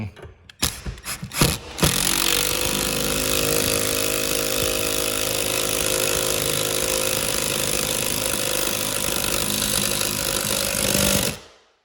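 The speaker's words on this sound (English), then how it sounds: "this Milwaukee is great, but it's a little bit small for putting big lag bolts in." A Milwaukee power driver drives a big lag bolt into a wall for a TV mount: a few short bursts, then a loud, steady motor whir that runs for about ten seconds before stopping abruptly.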